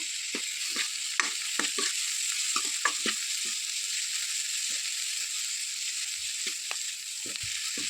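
Steady oil sizzle of curry leaves frying in a pan with tomato, with scattered stirring clinks and scrapes throughout, close and moderately loud.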